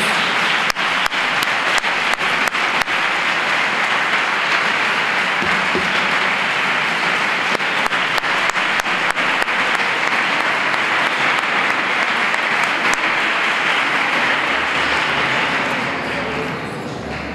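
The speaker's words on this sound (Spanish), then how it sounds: "Fuerte aplauso, por favor." Loud, sustained audience applause for a campanilleros choir at a 2017 choir gathering, a dense wash of clapping that holds steady for the full stretch before easing slightly at the end.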